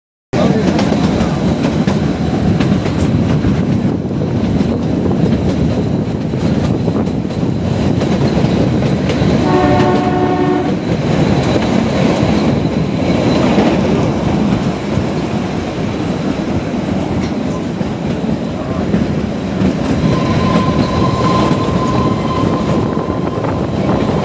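Kalka to Shimla toy train on the narrow-gauge hill line in Himachal, running with a steady loud rumble and rattle of wagons throughout, a brief horn-like tonal burst around the middle and a faint whistle tone near the end.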